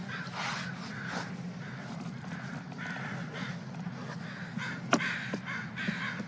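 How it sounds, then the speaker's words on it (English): Crows caw repeatedly from a flock, playing back from a video on a computer, with steady background noise and a few sharper calls standing out. "Lots of crows."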